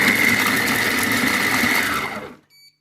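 A Compact Cook Pro M6 food processor processing potatoes and leeks for a soup, with a loud, close, steady motor whir that winds down and stops near the end.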